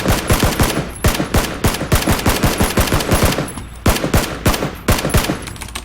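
Gunfire in the video game PUBG, loud rapid bursts of automatic shots in quick rhythmic volleys with brief pauses, close and dominant throughout.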